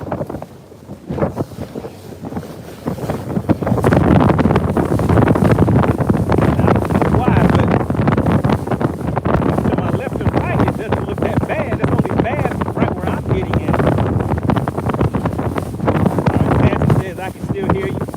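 A bass fishing boat pounds through rough water in hurricane wind, with loud steady wind buffeting and engine and water rush, a voice talking over it now and then.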